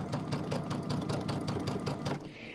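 A sewing machine runs a quarter-inch seam on quilt fabric for a bench square. The stitching is steady and close, with a fast regular pulse that holds for about two seconds before easing off near the end.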